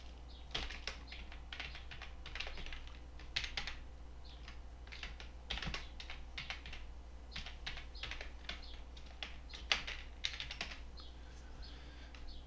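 Brisk typing on a computer keyboard while entering a password, with irregular clusters of crisp key clicks over a constant low hum and no one speaking.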